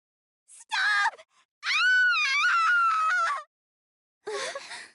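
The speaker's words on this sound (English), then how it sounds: "Did someone just scream?" A woman's scream rings out in the Death end re;Quest video game near a village: two short anguished cries, then a long wavering scream, and a final rough shriek after a pause, with no talk.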